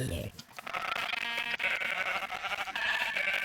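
Sheep bleat repeatedly over a busy, loud Minecraft soundtrack with music and effects, the calls short and wavering in the foreground.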